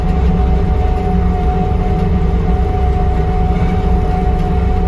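A diesel skid loader mower runs steadily while cutting a food plot, producing a loud, continuous low engine rumble and drone with no break for the whole stretch.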